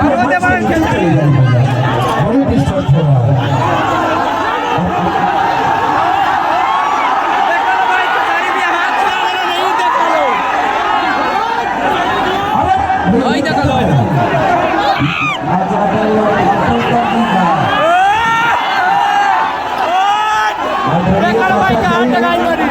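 A large crowd gathered for the arrival of Bhojpuri star Khesari Lal Yadav at a naming ceremony in Siwan, heard as a loud, continuous babble of many voices with shouts rising and falling. Close voices talk over the din.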